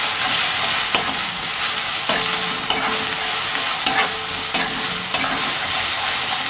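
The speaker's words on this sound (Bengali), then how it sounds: "3 চামচ নুন দেওয়ার পর আপনি এটাকে এবার সুন্দর করে ঘেঁটে দেবেন।" A salted food mixture is stirred in a pan over heat, with a rhythmic scraping stroke about once a second over a steady frying sizzle. No one speaks.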